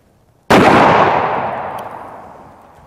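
A single Smith & Wesson .500 Magnum revolver shot fired at Kevlar body armor: one sudden, very loud blast followed by a long, rolling decay lasting over two seconds.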